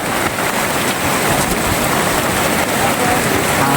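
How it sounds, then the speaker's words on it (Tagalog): Steady, heavy rain pours down outdoors in a work area, a loud, dense, continuous hiss with no pauses and no talking over it. "nakita na naman kami ng ulan mga idol"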